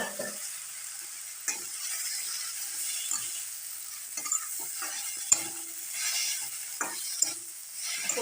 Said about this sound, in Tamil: லேசாக ஒரு ஃப்ரை உப்பு மிக்ஸ் ஆகிறதுக்காக லைட்டாக போட்டு